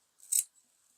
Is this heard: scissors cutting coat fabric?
yes